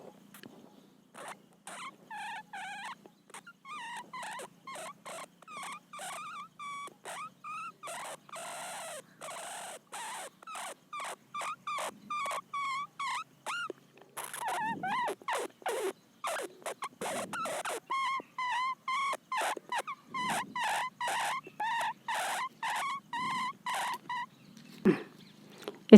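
A man imitates mice squeaking after a night fight, a long run of rapid high chirps and squeaks in quick bursts, steady and fairly close, with no talking.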